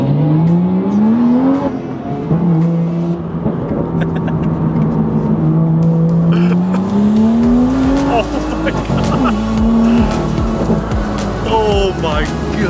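A BMW M2 with an N55 engine, heard from inside the car, drones and pulls through rising and falling revs as it accelerates, its steady engine tone climbing loudly through gear changes.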